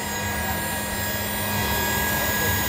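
A Yamaha NMAX E01 electric scooter's motor gives a steady, high-pitched electric whine over a constant hum, heard close and unbroken throughout.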